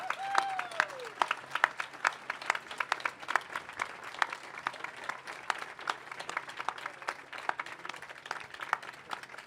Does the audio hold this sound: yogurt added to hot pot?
no